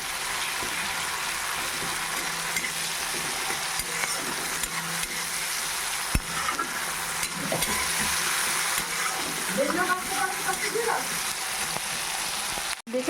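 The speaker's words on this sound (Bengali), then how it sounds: "দেখুন মশলাটা আমার হালকা ভাজা হয়ে গেছে" Spice paste for a rohu fish curry fries steadily in a pan, a continuous close sizzle and crackle with occasional stirring scrapes, no talking over it.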